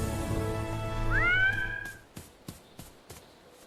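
A cartoon cat named Super Meow gives one drawn-out meow that rises and bends in pitch, followed by a quick run of sharp, evenly spaced clicks.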